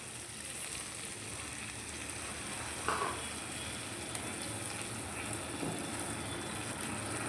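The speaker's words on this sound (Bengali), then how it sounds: "এবার অল্প করে জল দিয়ে দেবো।" Spice paste frying in a pan with water added, giving a continuous moderate sizzle and hiss with a brief burst near the middle, no voices present.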